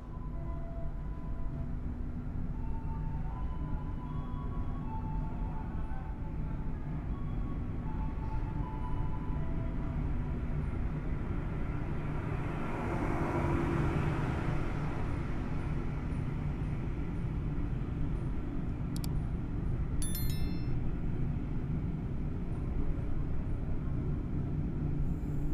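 Inside the executive-class Ijen Ekspres passenger train, a steady low rumble of wheels and carriage runs throughout, with a faint brief rattle partway through.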